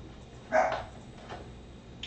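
A single short dog bark or yelp rings out indoors at moderate volume, followed by quiet room ambience with a faint second sound.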